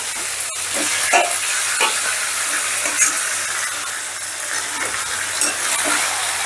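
Marinated chicken frying in a pan with softened onions, a steady close sizzle and hiss with occasional stirring scrapes throughout, no talking.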